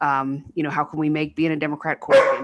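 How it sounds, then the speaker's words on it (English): Someone speaks steadily while a six-month-old puppy yips and barks briefly near the end, the bark sharp and close over his voice. "Apologize for the barking. I have a 6-month-old puppy with me."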